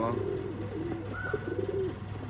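Pigeons of an old-line breed for sale in Bangalore coo softly and repeatedly in a loft, low rolling calls overlapping close by over a steady background hum.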